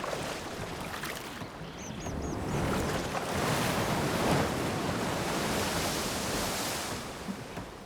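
Ocean waves and wind rush past while travelling by boat on open water in Horizon Forbidden West, a continuous broad wash of surf swelling louder mid-way, with a faint chirping call early on.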